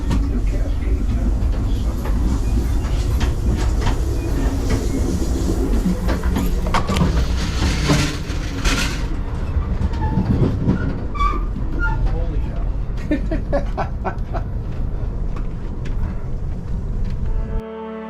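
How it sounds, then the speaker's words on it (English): Amtrak Empire Builder passenger train rolling steadily on rails, a constant close rumble with metallic rattles and clicks throughout, heard from on board. "I'm on the Empire Builder. As I said, this is a Amtrak train"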